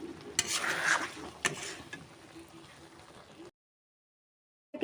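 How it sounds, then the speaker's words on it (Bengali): A cashew and melon seed paste, with powdered milk, is stirred in a pan on low flame, producing soft scraping strokes and a faint sizzle for about three and a half seconds before silence. "কিন্তু ফ্রাই করা যাবে না লো ফ্লেমে আমি কষিয়ে নেব দু মিনিটের মতো"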